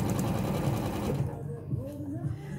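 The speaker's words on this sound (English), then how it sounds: "So I'm just going to stitch down this side here." A sewing machine stitching quilt blocks together runs in a fast, steady whir for about a second before stopping, after which a person talks.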